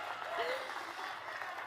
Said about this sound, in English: Let's applaud our first-time voters and our young leaders.